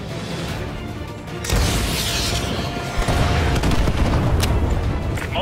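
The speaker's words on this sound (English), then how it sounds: "AGM missile is online" AGM missile strikes in Call of Duty Modern Warfare 2 Remastered, heavy booming explosions that swell in loudness partway through, followed by crackling blasts and sharp impacts in a dense, continuous barrage.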